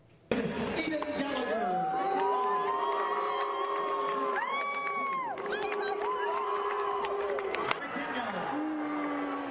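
Stadium crowd at a girls 200m state championship track final, a loud sustained mix of booing, cheering and whooping with some applause, shouting voices rising and falling over the full stretch.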